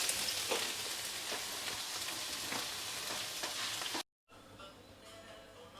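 Tofu pieces frying in hot oil for a Thai vegan dish, a continuous crackling sizzle with bursts of spitting, then a sudden brief cut-out before a quieter sizzle resumes; no one talks.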